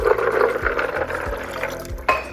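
Water pours into a container onto raw cashews being measured for plant-based yogurt, a short close gurgling fill with a few low bubbling pulses and a brief clunk near the end.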